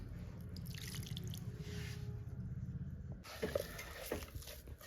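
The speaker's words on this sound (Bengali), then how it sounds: "এবার একটু পরিমাণ মতো আমি জল দিয়ে দিচ্ছি।" Water is poured into a potato pakora batter mixture in a rural kitchen, giving soft drips and wet squishing sounds under a low, steady background hum.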